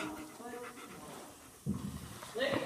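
A pet dog pants in quick, breathy bursts close to the microphone, while people talk over it.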